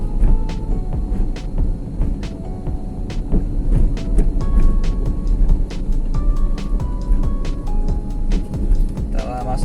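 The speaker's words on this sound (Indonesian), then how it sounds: "Setelah masukkan gigi 3, kita tambah gas." A car driven at night accelerates after a shift into third gear; the engine hums and throbs with a whine that rises in steps, heard from inside the cabin.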